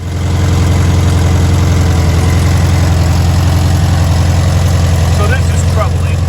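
Volkswagen Beetle engine running at a steady, loud, low idle with a constant rumble and vibration throughout, close up, and a voice is faintly heard over it.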